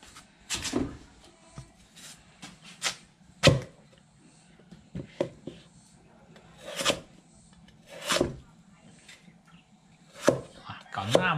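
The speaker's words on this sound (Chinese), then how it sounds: "现在我要开始切菜了， 先切这个土豆。" A knife chops a potato on a board in a rural farmhouse kitchen: sharp, close, uneven knocks about once a second, with quiet gaps between strokes and no talking.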